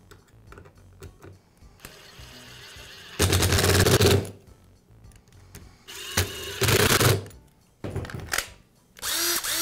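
A power tool drives screws into the housing of a DeWALT impact driver during a nose cone repair, with several loud, rattling bursts of a few seconds each separated by quieter pauses.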